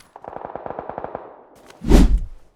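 Rapid burst of automatic gunfire in PUBG, about a dozen evenly spaced shots, followed by a single loud, heavy close blast.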